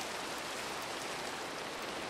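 Rain falls in a survival video game as an even, unbroken hiss that stays fairly loud and steady throughout, with nothing else standing out.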